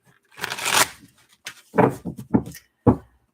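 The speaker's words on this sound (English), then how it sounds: "this will be our last shuffle" Tarot cards being shuffled by hand, a long riffling burst followed by several shorter quick shuffles and a final snap, close and fairly quiet with no talking.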